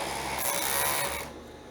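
A sewing machine stitches a bikini seam, a brief close mechanical whirr with quick rhythmic needle clatter that stops abruptly after about a second.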